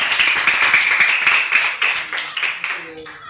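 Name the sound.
classroom children clapping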